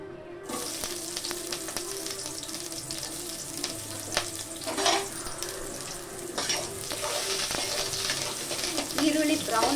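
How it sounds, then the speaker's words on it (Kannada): Onions sizzle and crackle in hot oil for a chicken fry, with steady broadband frying hiss and occasional stirring scrapes throughout, close and moderately loud, no talking. "ಈರುಳ್ಳಿ ಬ್ರೌನ್ ಆಗೋವರೆಗೂ ಫ್ರೈ ಮಾಡ್ಕೊಬೇಕು ಗೈಸ್"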